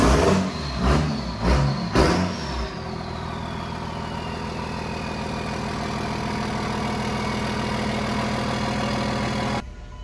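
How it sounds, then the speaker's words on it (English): A Cummins diesel pickup truck with a VP injection pump, fitted with a new AirDog lift pump, cranks in a few rhythmic bursts and then catches. It settles into a steady, loud, close-up idle that holds to the end. "So we went ahead and got this truck fired up and primed up."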